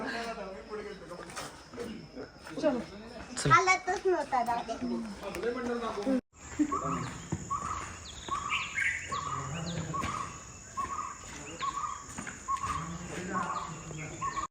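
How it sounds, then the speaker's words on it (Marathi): Several birds chirp and call in varied short phrases, with a steady insect-like trill behind them, partly under a person talking. "बघू शकता वेगवेगळ्या पक्ष्यांचे आवाज कसे येत आहेत"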